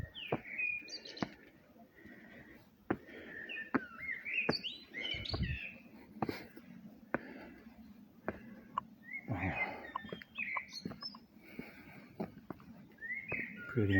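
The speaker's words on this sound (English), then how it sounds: "Just love listening to the birds." Several birds sing and chirp outdoors in Bratislava, Slovakia, quick repeated whistled phrases and twitters coming and going at moderate distance, with no talking.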